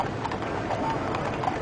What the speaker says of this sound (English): with the rumble of the wheels and the click of their hooves